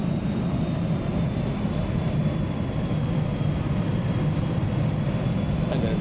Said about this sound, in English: And there's that jet.